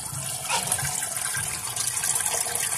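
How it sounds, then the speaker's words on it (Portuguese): Water trickles from the small tap of a close-coupled toilet cistern into the bowl, a steady hissing flow close by and fairly loud, with no voices. "Tá vendo que sai um pouquinho de água lá da torneirinha?"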